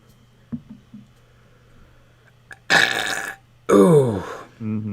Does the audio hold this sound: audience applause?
no